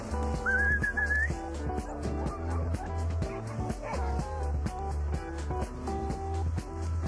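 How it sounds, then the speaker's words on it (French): Many sled dogs bark and yip in a rapid, overlapping chorus at a mushing competition in Puymarod, France, close and constant, with a whistle-like whine at the start. "Antoine et toute l'équipe ont donné rendez-vous aux mushers et leurs chiens de traîneau pour 3 jours de compétition"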